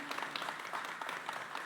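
A crowd applauds steadily at a municipal conference on women in politics, a dense wash of clapping from many hands that holds at an even level throughout.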